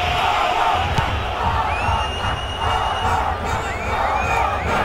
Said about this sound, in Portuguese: Balançou ali a torcida do Rio.